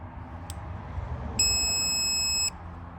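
A torque wrench gives a single steady electronic beep lasting about a second on reaching 30 Nm while tightening a Mercedes Sprinter 2.1L exhaust manifold, close by over a low background hum, preceded by a brief faint click.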